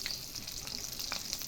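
Gram-flour-battered potato chops fry in oil on a clay stove, a faint, even hiss with a few light crackles, heard alone.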